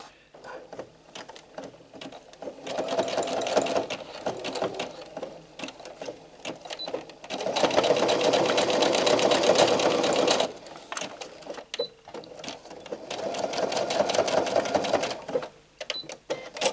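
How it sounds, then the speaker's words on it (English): A sewing machine stitches herringbone tape onto a martingale collar in bursts of rapid mechanical whirring, pausing between runs, close and moderately loud. "You're going to sew your herringbone tape over it as well."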